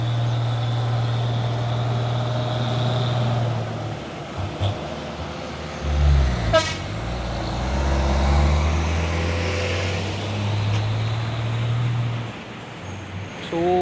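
A heavy Isuzu trailer truck rumbles past with a deep engine drone, swelling and fading as it goes by amid steady road traffic.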